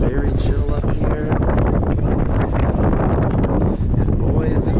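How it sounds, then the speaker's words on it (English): Strong wind buffets the microphone on the open upper deck of a Disney Dream cruise ship near the adult pool, a loud continuous roar that runs the full length with no pauses. "And boy, is it windy."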